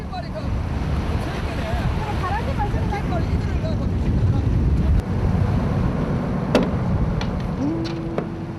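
A fishing boat pitching in rough seas under strong wind, with constant wind buffeting the microphone over surging waves and water noise, plus a few brief knocks and creaks from the boat.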